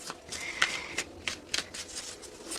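Tarot cards being shuffled by hand, a series of quick crisp riffling bursts repeating about every half second, close and clear with no talk.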